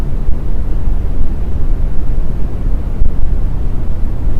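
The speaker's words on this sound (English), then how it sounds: "So the first one is brown noise." Brown noise played as a steady, deep rumbling hiss, loud and continuous throughout with heavy low-end weight and no talk.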